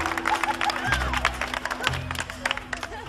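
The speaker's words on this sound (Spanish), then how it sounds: "¡Un aplauso!" A studio audience at a Spanish comedy show applauds as a guest is introduced. Dense, continuous clapping fills the room at moderate loudness, with voices and a low hum underneath.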